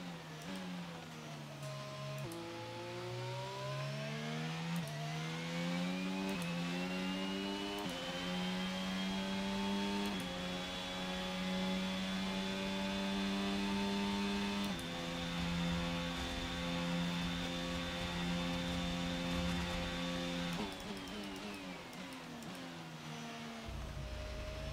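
Formula 1 car engine in the F1 2022 video game on a heavy-rain setup, droning steadily with gear shifts, rising and falling revs through a long sustained high-pitched pull.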